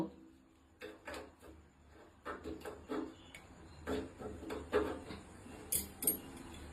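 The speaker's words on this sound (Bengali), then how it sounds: "এই যে স্ক্রু ড্রাইভার দিয়ে এই যে নাটগুলোকে আমরা খুলে নেব" A screwdriver loosens greasy, oil-coated nuts in a series of close metallic clicks, scrapes and rattles, irregular and moderately quiet, with short pauses between bursts and no talking.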